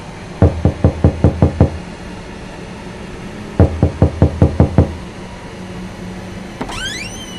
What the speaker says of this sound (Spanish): alguien había tocado la puerta de mi habitación